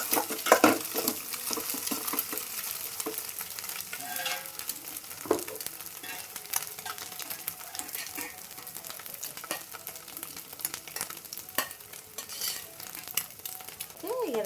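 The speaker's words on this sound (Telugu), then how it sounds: "సో ఇది మంచిగా ఫ్రై అయిపోయింది కదా" Food sizzling and frying in a pan at home while a utensil stirs it, with clear scraping and clinking strokes over a continuous hiss, heard close up and without talk.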